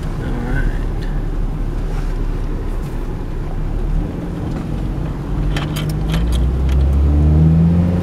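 A Toyota Paseo project car pulls away and accelerates, its engine rising in pitch and then dropping as it shifts gears, with the engine note growing louder near the end over wind buffeting.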